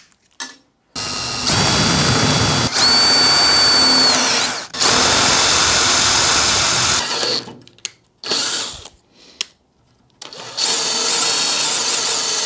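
A power drill whines loudly in several long bursts, stopping and restarting, with a brief high-pitched squeal as the bit bites through material.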